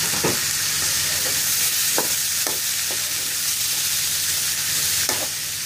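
Tomatoes fry in butter in a pan for dal khichdi, giving a steady, close sizzling hiss broken by a handful of sharp spoon scrapes and taps as they are stirred.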